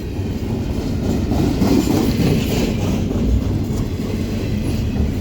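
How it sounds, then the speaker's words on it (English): A CN freight train rolls past nearby in the rain, a loud continuous rumble of rail cars with clattering wheels and faint squeals, steady throughout with no talk. "The end of this train's right here."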